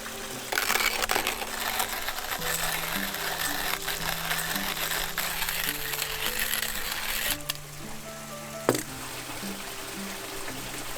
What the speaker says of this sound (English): I start by grinding the beans